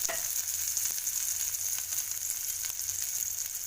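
Green chillies and curry leaves fry in hot oil in a pan, producing a steady, close sizzle with faint crackles throughout and no voices.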